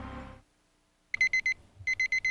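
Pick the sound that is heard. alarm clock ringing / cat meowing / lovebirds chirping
alarm clock ringing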